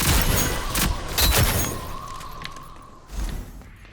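Gunfire in the online shooter Rogue Company: a few sharp bursts of shots near the start, a fading lull, then another thud-like shot near the end, loud and close with no talk.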